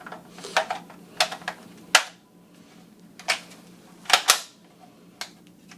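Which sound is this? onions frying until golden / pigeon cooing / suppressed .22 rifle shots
suppressed .22 rifle shots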